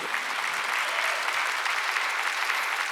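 A church congregation at a Wednesday worship service claps steadily and densely, an unbroken wash of applause from many hands with no speech over it.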